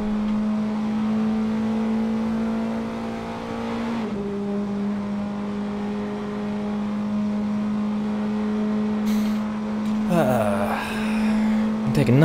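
Praga R1 race car engine in Assetto Corsa at Paul Ricard, a loud steady high drone held flat down the long straight, then dipping and rising through quick shifts near the end.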